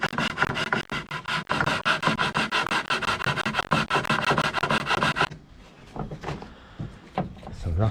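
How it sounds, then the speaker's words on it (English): Rough sandpaper rasps against a wooden kayak paddle being repaired, a dense run of quick back-and-forth strokes for about five seconds, then a quieter stretch with scattered scrapes and faint talk. "Some rough sandpaper."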